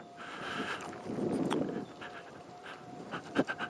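Dog panting nearby, rapid soft breaths heard outdoors beside someone riding an electric unicycle, with faint rustling and no talk.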